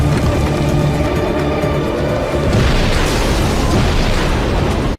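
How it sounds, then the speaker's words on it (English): A real van blowing up in a staged NCIS action scene, a loud, sustained roaring blast with crackling fire and rumbling debris that fills the whole stretch, swelling further midway through, with no talk over it. "that was a real explosion"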